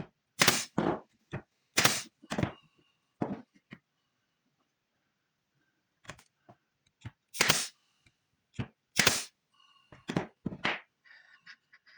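A nail gun fires into a wooden slat cut from scrap 2x4 during a woodworking build, with several sharp, loud percussive bursts in two clusters separated by a quiet gap, plus lighter clicks and knocks of handling.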